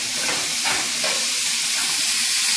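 Sausage and kielbasa simmer in a pot for chuckwagon beans, a loud, close, continuous hissing sizzle with faint bubbling, steady throughout and without talking.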